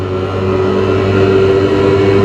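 Fiat Abarth 595 engine in Assetto Corsa, revving hard and steady: a loud, close, buzzing four-cylinder drone held at high revs without letup.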